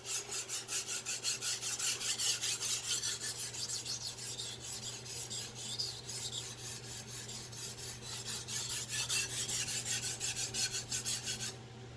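A Victorinox 8-inch chef knife drawn across a Chosera whetstone, producing steady, rhythmic rasping strokes, close and even for the whole stretch, with no talking.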